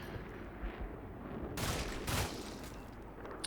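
Two short bursts of rapid video game gunfire, fairly close, rising over a steady background hum, then a lone faint shot near the end.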